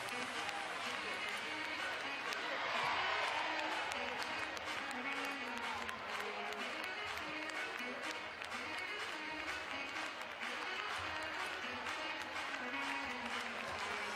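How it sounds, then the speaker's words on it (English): Fans applaud at a Basketball Champions League game between Dinamo Sassari and Enisey Krasnoyarsk, a steady wash of clapping and crowd noise filling the arena for the whole stretch, swelling slightly early on. "Rok Stipčević gets the applause from his fans."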